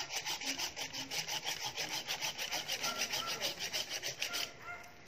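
A hand saw cuts back and forth through a peach tree branch in quick, even rasping strokes, close by, stopping just before the end.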